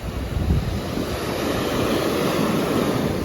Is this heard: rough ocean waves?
yes